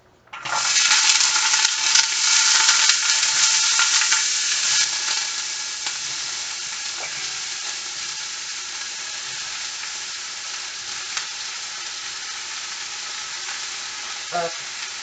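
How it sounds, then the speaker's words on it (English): Carrots for cabbage soup hit a hot pan and sizzle loudly at once, then the frying settles into a steady, slightly quieter hiss with faint clinks and stirring. "You're going to hear the sizzle."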